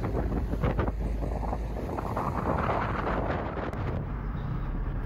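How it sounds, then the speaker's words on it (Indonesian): A strong southeasterly wind roars across open water of the Java Sea, buffeting the microphone over the constant wash of waves around a sailing boat, loud and unbroken with no talking. "angin sama ombak sama arus masih kuat dari arah tenggara sana"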